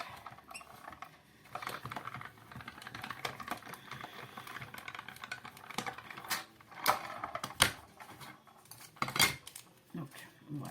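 Scissors snip out a small palm tree shape from thick 135-gram paper, with quiet irregular clicks and crisp cuts up close, growing busier and sharper toward the end.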